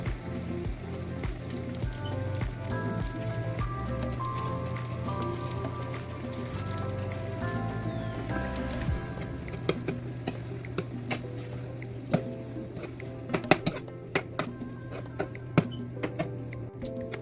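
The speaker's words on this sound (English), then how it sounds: "Then add the marinara sauce and then mix well." Marinara sauce being stirred into cooked pasta in a pan for a Tuscan pork and ricotta bake, with soft wet squishing and a low steady hum, then sharper scraping clicks of the utensil toward the end, close and without talk.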